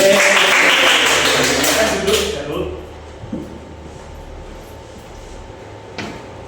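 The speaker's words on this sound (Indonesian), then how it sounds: "Ya, betul. Tepuk tangan." Classroom applause from students after a correct answer during a microteaching lesson, a loud burst of clapping that fades after about two seconds, leaving quiet room noise with a faint knock near the end.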